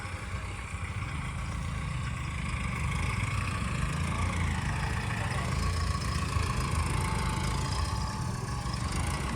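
A steady tractor engine rumbles and idles continuously, close and fairly loud, with a constant low drone throughout.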